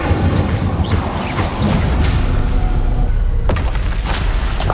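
Incendio fire spell cast in the Hogwarts Legacy video game: loud, dense bursts of fiery booms and crashing whooshes that roll continuously without a break.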